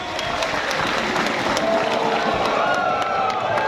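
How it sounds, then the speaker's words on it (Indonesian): Stadium crowd at a BRI Liga 1 2023 trophy ceremony for PSM Makassar applauding and cheering, a broad continuous roar of clapping and crowd noise with sharp individual claps cutting through. "Tepuk tangan buat Bapak Tri Paulus."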